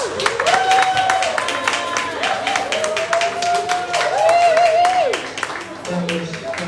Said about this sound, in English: Why don't we do another round of applause for the first act?